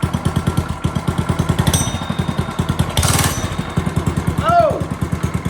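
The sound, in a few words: HoverHearts 99cc gas bike engine running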